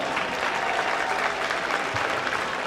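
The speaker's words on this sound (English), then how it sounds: "Let's give another round of applause to these great senior athletes, cheerleaders, and managers on their successes" Applause from an audience in a gym, honoring senior athletes, cheerleaders and managers at a high school boys basketball game: dense, steady clapping that fills the room and holds at an even level throughout.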